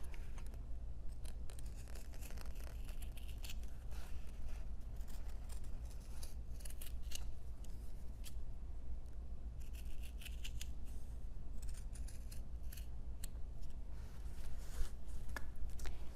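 Scissors snip through stiff Timtex to cut out a traced shape, a quiet run of crisp, rapid close-up cuts over faint background hiss.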